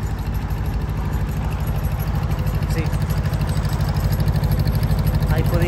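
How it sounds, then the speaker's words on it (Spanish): A lighting tower's built-in generator idles at the Santiago Bernabéu stadium construction works, a loud, steady low engine drone with an even pulsing rumble throughout and a brief spoken word. "esto que escucháis, es la torre de iluminación, que imagino que va con grupo integrado"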